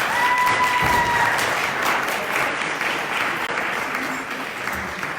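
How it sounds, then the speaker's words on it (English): A banquet crowd at an annual fundraising dinner and awards gala gives a round of applause, sustained, even clapping from many hands that fades slightly toward the end. "I think they deserve a round of applause"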